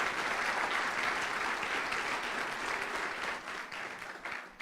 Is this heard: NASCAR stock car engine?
no